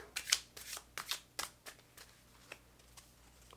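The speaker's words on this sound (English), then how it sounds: "So I will give a shuffle and pick one more." Tarot cards are riffled and shuffled in quick crisp bursts, close up, with sharp flicking slaps that gradually thin out.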